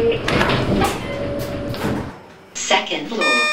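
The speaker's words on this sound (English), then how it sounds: "Door closing." Elevator doors in a Roblox game sliding shut with a rumbling, scraping mechanical whoosh, moderately loud and close, followed by a brief chime-like tone, with a voice talking over part of it.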